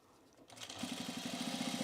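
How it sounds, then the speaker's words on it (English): A domestic sewing machine starts up and runs an edge stitch around a fabric bowl cozy, a quick rapid whirring hum with a steady pulsing rhythm, close and alone. "we're going to just edge stitch around the whole way"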